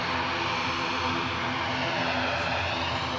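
A Turkish Airlines Airbus A321 departing Edinburgh airport, a steady loud jet engine roar with a sustained tonal whine, continuous and unbroken with no talk.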